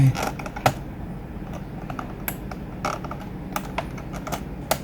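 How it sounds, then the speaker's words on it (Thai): Plastic clicks and snaps as the keyboard of an Asus X44H laptop is pried up off its locking clips, with scattered sharp taps and rattles at close range in a quiet room. "การแกะก็จะมีเขี้ยวล็อกนะครับ แล้วก็ดันขึ้นไปนั่นเอง"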